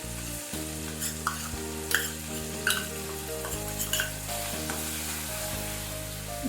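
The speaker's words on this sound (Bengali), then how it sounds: "এবার আমি এতে সমস্ত গুঁড়ো মশলাগুলো জল দিয়ে গুলে একসাথে দিয়ে দিলাম" Ground spices mixed with water hit softened tomatoes in a pan for a vegetarian jackfruit curry, producing a strong, close sizzle with rhythmic stirring scrapes and light utensil knocks, no one talking.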